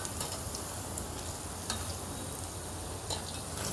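Black-eyed pea vadas frying in hot oil, stirred in the pan, giving a steady dense sizzle with faint scraping touches throughout, no voices.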